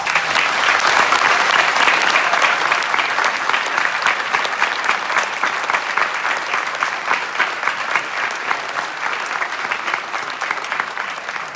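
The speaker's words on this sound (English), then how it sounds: "A round of applause for all of our candidates." A theatre audience applauds mayoral candidates at a city debate: steady, loud, dense clapping from a large crowd that fills the hall without a break and eases off only slightly toward the end.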